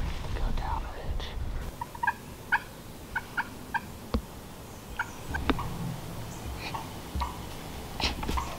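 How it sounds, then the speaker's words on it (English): Wild turkey gobbling far off across a ridge and hollow in the woods during a turkey hunt, several faint repeated gobble bursts over quiet outdoor ambience, with a soft whispered voice in places. "I've been hearing one gobble, but it's actually around the ridge and pretty much on the other side of the holler"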